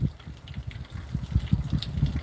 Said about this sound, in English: that water noise is my drain from my gutter